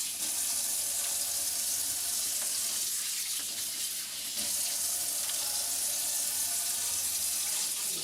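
Running tap water pours steadily over brined oysters being rinsed, a continuous close hiss and splash with no talking.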